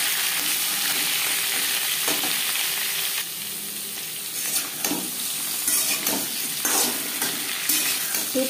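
Papaya pieces stir-fry in a pan with panch phoron, dried red chilli and bay leaf. The sizzle is steady and close, and spatula scrapes and stirring clicks recur through it.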